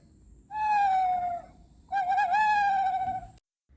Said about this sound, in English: Kids, this is an owl.